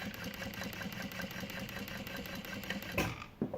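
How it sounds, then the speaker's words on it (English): Juki DU-1181N industrial sewing machine stitching through a thick belt-like material, giving a fast, even mechanical chatter that runs steadily and then stops abruptly near the end. "I'll sew through the side here."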